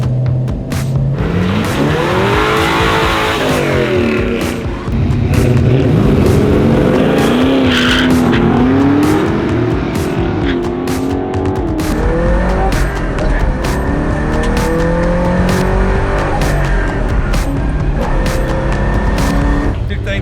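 A race car launches hard at a drag strip during the Hardass 1000 event. The engine screams as revs climb and shift, and tires squeal in a loud, continuous roar close by.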